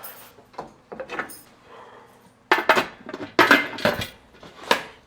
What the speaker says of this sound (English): So I'm going to put the lid on.